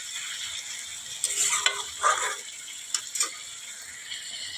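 Potato, eggplant and Malabar spinach curry being stirred and fried in a pan, with soft intermittent scraping and sizzle and a few sharper spoon clinks, moderately quiet and without talk.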